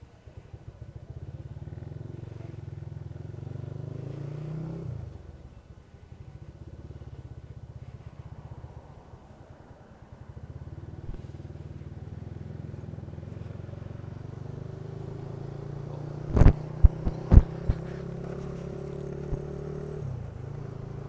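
A Honda motorcycle on a touring ride with a muffled exhaust gives a steady low engine drone, dipping briefly around the fifth and tenth seconds, with a few sharp clunks near the end.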